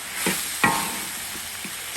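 Free-range chicken stir-frying in a wok with Sichuan pepper and salt: a steady close sizzle with a few sharp scrapes and clinks of the spatula against the pan.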